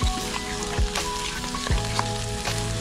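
Onions, tomato, green chili and capsicum fry in a pan with a steady, close hiss and crackle, broken by a few scraping stirs, with no talking.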